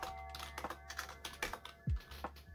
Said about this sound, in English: instead of typing reflectance, let's type transparency